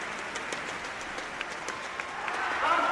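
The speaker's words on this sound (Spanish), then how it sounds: "La gente metiendo presión con estos aplausos." A crowd at a professional basketball game claps steadily, a dense rhythmic applause filling the arena, with scattered louder claps and voices rising slightly toward the end.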